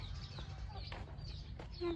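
Chickens cluck and chirp in short, scattered calls against a quiet outdoor background, faint and somewhat distant, with a brief louder note at the end.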